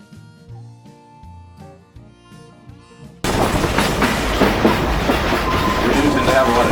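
A tourist train in Branson runs on the rails, its steady, loud rumble and clatter cutting in abruptly about halfway through after a quieter stretch of tonal, music-like sound.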